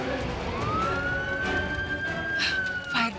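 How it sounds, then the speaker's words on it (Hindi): A fire engine siren arrives on scene in a TV drama, a single rising wail that climbs and holds steady, loud and near amid busy background noise. "फायर ब्रिगेड आ गई, मैं चलती हूँ।"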